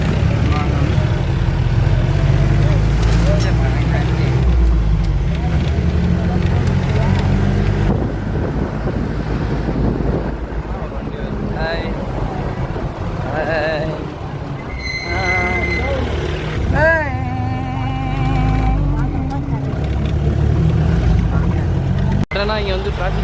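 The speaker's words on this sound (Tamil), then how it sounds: "இங்கே வந்து டிராஃபிக் ஆகிடுச்சு." Steady engine and wind rumble of vehicles on a forest road through Mudumalai near Masinagudi, continuous and fairly loud, with people talking over it and a few brief tonal horn-like sweeps.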